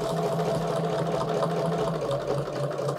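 A sewing machine stitching a diamond grid quilting pattern, running continuously at an even fast hum with a steady mechanical whir throughout, close and unbroken.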